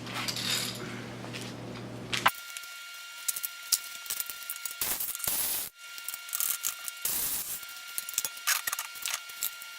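Bolts being removed from a Jeep JK axle during a one-ton axle swap: rapid, close ratchet clicking and metallic rattling in several bursts, preceded by a brief humming hum, with no speech.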